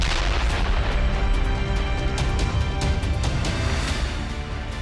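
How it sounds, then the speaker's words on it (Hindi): Bombing explosions from Israeli airstrikes on Iran: a dense, continuous roar of loud booms and crackling blasts, heavy low rumble throughout, with no talking. "ईरानी मिसाइल ठिकानों को भी टारगेट करते हुए बमबारी की गई।"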